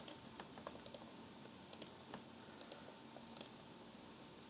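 Keys clatter on a computer keyboard as a file path is typed, in soft irregular clicks and short bursts heard close up over faint background hiss, with no talking.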